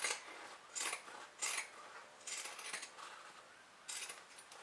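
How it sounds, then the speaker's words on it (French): Pinking shears snipping fabric while trimming excess cloth from a sewn coin purse, a series of crisp close cuts in irregular rhythm, quiet and with no talk. "je reprends mes ciseaux cranteurs, je vais enlever le surplus de tissu de partout"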